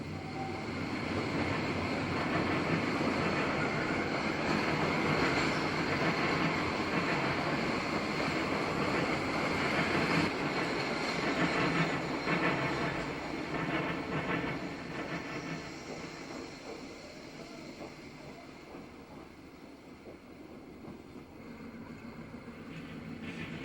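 Wabash Railroad train KD-12 crosses the railroad diamond at OJ Tower, a sustained rumble of rolling wheels and rail noise that gradually fades toward the end.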